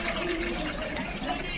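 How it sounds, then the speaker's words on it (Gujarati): Water pours into a clay water pot at home, a soft continuous gushing and filling sound, steady and moderately close with faint background noise. "ગોળામાં પાણી નમાડ્યું છે"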